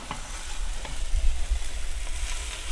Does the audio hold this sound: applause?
no